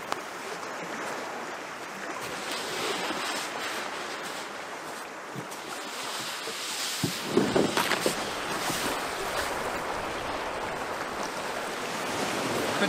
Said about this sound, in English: Waves and wind are building massively over there